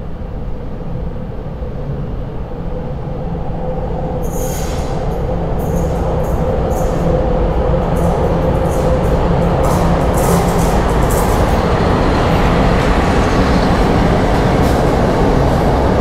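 Passenger train on a Polish railway, a TLK service hauled by a locomotive, rumbling steadily and loudly throughout with rolling wheel noise and brighter high-pitched rail squeals and clatter joining after the first few seconds; no talk.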